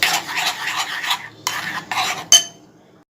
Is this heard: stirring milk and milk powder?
yes